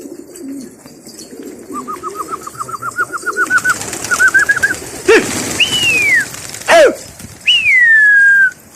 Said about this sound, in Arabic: وهاي الحمام لعيونه.